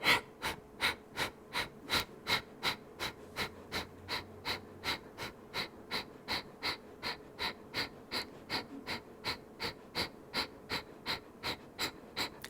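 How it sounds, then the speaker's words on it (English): Rapid short exhales through the nose in a yoga workout, an even train of quick, sharp breath pumps at about two per second, close and alone. "little short exhales through the nose, like you're blowing out a candle through the nose"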